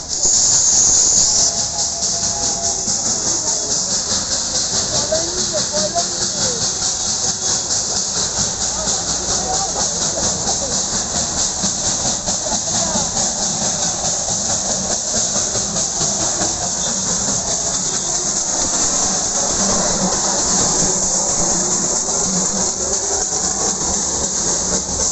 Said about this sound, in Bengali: এবার ট্রেন ঢুকছে, ওই জন্য সবাই দেখো এইভাবে তাকিয়ে আছে, এক্ষুনি টয় ট্রেন ঢুকবে আর কি